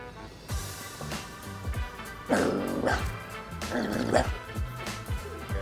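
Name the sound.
person imitating a dog barking on all fours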